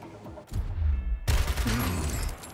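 Gunfire in the tactical shooter Gears Tactics crackles in two bursts, a short volley and then a louder, sustained rattle of shots with low booms underneath, with no talking.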